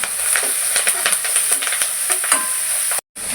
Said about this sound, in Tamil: இந்த கருவேப்பிலையும் சேர்த்துக்கலாம். கொஞ்சம் லைட்டாக வதக்கிட்டு